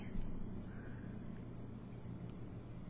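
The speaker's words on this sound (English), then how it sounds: "Lots of traffic today." Steady road traffic outside on a busy morning, a continuous low rumble of passing cars and trucks, distant and fairly faint, with no talking.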